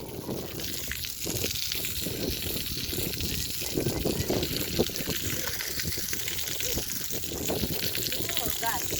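Water is sprayed onto a freshly cast concrete roof slab for curing, a continuous hissing splash with pulsing surges, heard close with voices talking over it.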